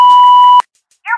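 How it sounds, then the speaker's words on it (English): A single steady answering machine beep, loud and clear, cuts off abruptly, followed by silence and a voice starting to speak. "leave your question at the sound of the beep"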